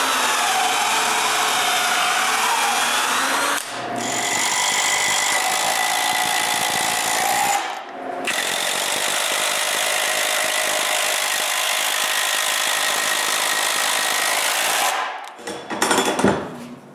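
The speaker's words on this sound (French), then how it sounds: "je visse la plaque en place." A power drill drives screws to fasten a plate onto a mobile wooden workbench in a workshop, giving sustained whirring runs broken by two brief pauses, then a short stuttering burst at the end.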